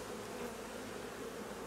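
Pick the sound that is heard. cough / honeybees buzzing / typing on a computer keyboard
honeybees buzzing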